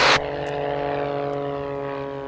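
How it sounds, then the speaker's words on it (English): Steady propeller engine drone of a Pitts S2B aerobatic biplane during landing, a loud continuous tone with strong harmonics that holds level for about two seconds between brief louder bursts at start and end, with no voices. "trying to judge the landing with such a twitchy aerobatic airplane was really, really challenging"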